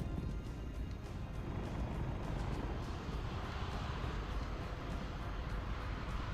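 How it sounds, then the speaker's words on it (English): Aircraft engine drone from Microsoft Flight Simulator 2020 during a flight tour over Japan, a continuous, steady, broadband roar that stays quiet and unchanging throughout. "This is an aircraft after all. It's gonna be a bit loud."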